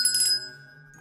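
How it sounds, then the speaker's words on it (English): A bright bell rings once, a clear metallic strike whose tone lingers and slowly fades, used as a subscribe-notification sound effect. "If you're watching on YouTube, be sure to ring that bell."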